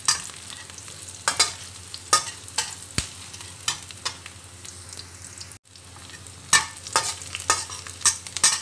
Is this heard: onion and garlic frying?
yes